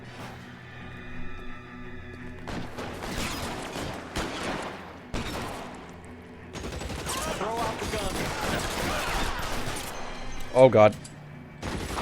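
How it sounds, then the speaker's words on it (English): Tommy gun bursts in the crime game LA Noire, with rapid sustained automatic fire and scattered shots rattling over about twelve seconds, broken by short pauses, with a voice exclaiming briefly over the gunfire. "They got Tommy guns!"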